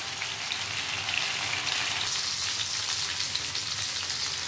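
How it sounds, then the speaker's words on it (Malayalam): Paneer tikka shallow frying in a pan gives a steady, close, continuous sizzle and crackle, loud and unbroken throughout with no voices. "നമുക്കിത് എല്ലാ സൈഡും തിരിച്ചിട്ട് ഫ്രൈ ചെയ്തെടുക്കണം. ഒരു ഷാലോ ഫ്രൈ ചെയ്താണ് നമ്മൾ എടുക്കുന്നത്."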